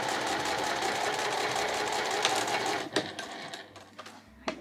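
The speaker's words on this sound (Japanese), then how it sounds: "線の上を縫っていきます。" A sewing machine stitches along a marked line on fabric for a small pouch, whirring in a fast, steady rattle close by, then stopping and leaving a few light clicks and taps, with no talking.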